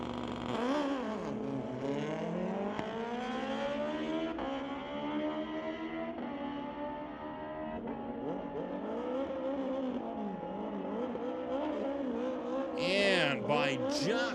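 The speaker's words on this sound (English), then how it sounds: "Paul Serdar takes the Gixxer Suzuki to race against Lee Gallant in a" Engines at Mission Raceway Park during a street-legal drag night as Suzuki Gixxer motorcycles launch and rev hard, the pitch climbing over several seconds under a track announcer's voice, ending in a brief burst of high noise.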